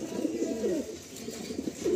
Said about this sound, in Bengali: এই নটটা হচ্ছে কাঠিগর্দার নর, আর কত বিগ সাইজ পায়রাটা দেখুন আপনারা